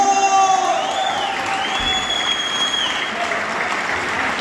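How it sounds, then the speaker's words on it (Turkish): Wedding guests at a ceremony break into strong applause after the kiss, lively clapping mixed with cheers and whoops in a reverberant room, with occasional children's voices and background chatter. "Güçlü alkış geliyor."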